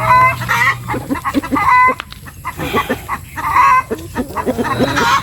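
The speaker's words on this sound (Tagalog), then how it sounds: "magpapatuka ng ating alagang mga manok" Several chickens cluck and murmur close by in repeated short bursts while being fed bananas, a busy, continuous farmyard chatter with no talking.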